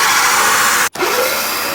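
A power drill runs steadily at close range, enlarging a small hole in metal with a small bit used as a guide. The whine cuts out in one brief break and immediately resumes.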